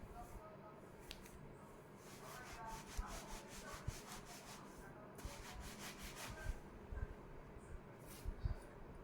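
Urad dal is wiped clean with a cotton cloth, making a soft, faint, continuous rubbing and scrubbing with occasional light taps.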